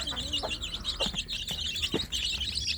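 Free-range chicks (ayam kampung) chirp busily while feeding on wet feed, a dense stream of high peeping with occasional clucks and pecking taps, close and continuous with no talking.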